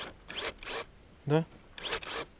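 Sharp garden pruning shears cut through paper in several quick, close rasping snips, with one short spoken word between them.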